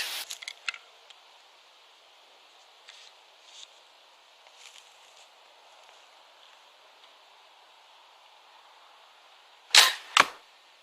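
A coilspring crossbow is shot at a bottle 20 meters away. Faint clicks and handling noises come first, then a sharp, loud release snap, followed quickly by a second crack.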